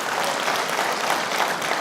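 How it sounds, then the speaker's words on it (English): Loud, dense applause from a large crowd at a live flight simulation expo, continuous clapping for first-time attendees, close and steady with no speech. "Let's give them a round of applause."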